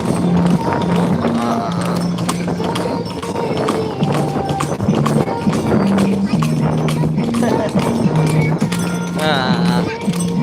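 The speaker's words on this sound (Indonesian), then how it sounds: "Kita naik kuda delman malam-malam ya." A horse pulls a delman cart through the streets of Kuningan at night, its hooves clip-clopping steadily under loud music and people talking.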